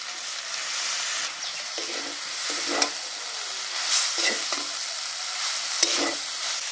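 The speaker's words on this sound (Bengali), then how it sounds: "এখন চাউমিনটা ছেড়ে দেব।" Vegetable chowmein noodles, dressed with chilli sauce, soy sauce and vinegar, stir-fry in a pan with a steady loud sizzle broken by several sharp scraping and tossing bursts.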